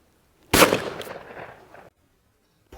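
A single loud shotgun blast fired at a crossing clay target, its sharp crack trailing into a decaying echo over about a second, followed by quiet.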